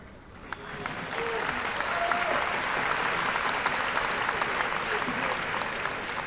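An audience at a church pastoral talk breaks into sustained applause, a dense wash of clapping that builds within the first second and carries on steadily to the end.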